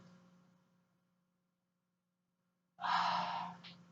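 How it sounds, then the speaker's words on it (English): A deep breath in and out during a seated yoga cooldown. A faint exhale fades over the first second, then silence, then a loud, close, breathy inhale-exhale rushes in near the end against a steady low hum. "2 big breaths in. Inhale, reach up."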